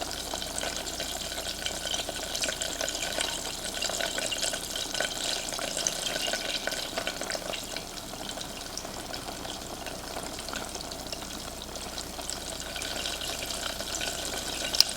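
Butter sizzles and fries in a pan on the stove for a pasta sauce, a continuous crackling hiss with occasional spatter and stirring noises and no talking.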